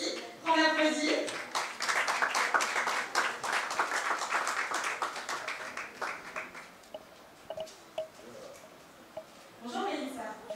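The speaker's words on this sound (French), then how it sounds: "On l'applaudit." An audience applauds at a jazz festival press conference, a dense burst of clapping that swells early and tapers off into scattered claps, with a voice talking at the start and again at the end.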